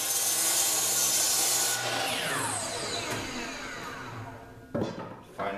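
Miter saw cutting through a piece of 2x4 lumber: a loud, continuous motor whine with the blade grinding into the wood, the pitch sagging as it cuts, then a short clunk and a knock as it finishes.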